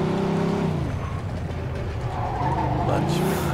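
Damaged car in the video game Mafia 2 skidding, with loud tire squeal and engine noise sweeping up and down, and someone talking over it.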